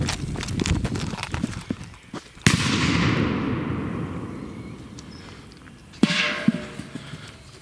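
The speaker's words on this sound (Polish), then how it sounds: "A, patrzcie, jest nasza petarda." An Achtung firecracker goes off with a sharp, loud bang and a long decaying rumble, followed a few seconds later by a second crack, outdoors with no talk.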